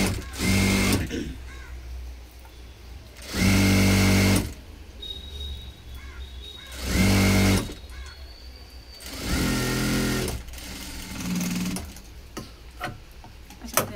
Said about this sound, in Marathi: 1/2 इंचावर बरोबर आपण स्टिच करणार